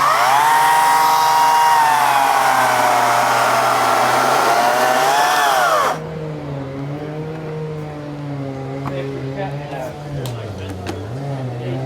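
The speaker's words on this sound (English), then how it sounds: "We'll make a 10-degree angle cut on this post" A chainsaw running in a flattop saw guide whines at high pitch while making a 10-degree angled cut through a post, then drops to a lower idle for the remaining half as the engine settles.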